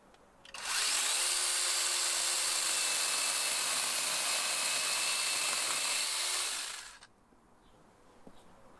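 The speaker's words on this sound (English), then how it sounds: "with the help of my my little portable handheld chainsaw, I'm going to remove this" A small portable handheld chainsaw revs up sharply and whines steadily at high pitch for about six seconds, close and loud, cutting silver birch wood, then cuts off, leaving quiet outdoor background.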